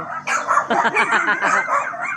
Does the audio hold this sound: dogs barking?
yes